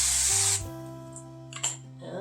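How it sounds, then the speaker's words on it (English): A close, hissing burst of avocado oil cooking spray lasts about half a second over a low hum, followed by a second short spritz. "I'm going to spray the bottom with, it's actually avocado oil."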